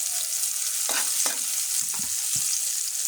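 Chopped garlic and onion fry in hot oil with a steady, loud sizzle, broken by a few sharp scrapes of a spoon stirring the pan.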